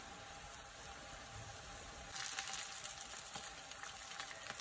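Fish masala fry pieces sizzle in a hot pan with a steady, close, continuous frying hiss that grows louder and crackles more about halfway through.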